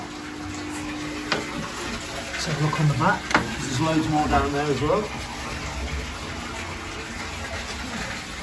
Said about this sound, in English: Considering this is well water, that is very clean, coming out of the well and down.